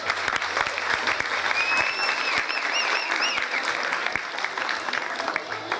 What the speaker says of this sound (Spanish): soberana Liliana Patricia Reyes Zelaya, quien pido un aplauso, por favor.